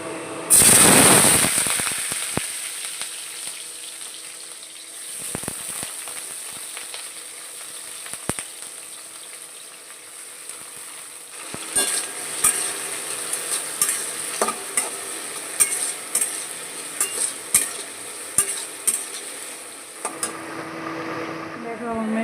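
Raw vegetables fry in a pan: a loud burst of sizzle as they hit the oil, then quieter frying with repeated sharp scrapes and clinks of stirring against the pan.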